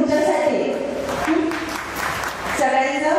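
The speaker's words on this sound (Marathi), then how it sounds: "जर खरोखरच एकमेकांना भेटून आनंद झाला असेल तर जोरदार टाळ्या तुमच्यासाठी" An audience applauds at a school reunion gathering, clapping mixed with someone speaking over the crowd through much of it.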